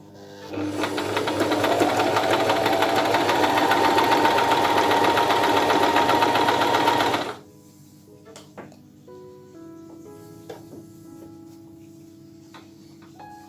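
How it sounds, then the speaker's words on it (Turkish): A Singer Promise 1408 sewing machine runs a straight stitch steadily for several seconds with a fast, even mechanical whir, then stops, leaving quiet with faint clicks and handling sounds. "dikiş makinemiz düz dikiş ayarından devam ediyorum. Pedala basıyorum."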